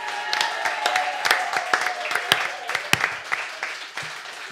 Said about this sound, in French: Je vous demande, messieurs, dames, d'applaudir Josiane et Philippe